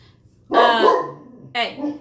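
A pet dog barks indoors at home, one long, loud, rough bark followed by a shorter second bark a moment later, close to the listener.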